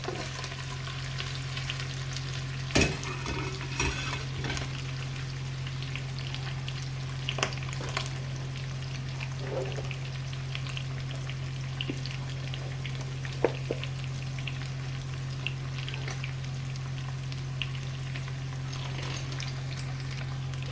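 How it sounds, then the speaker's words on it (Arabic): Potatoes frying together with meat and onion in a pan, a steady crackling sizzle for a long stretch with occasional stirring knocks over a low constant hum. "هسه البطاطس تنحمس ويا اللحم والبصل"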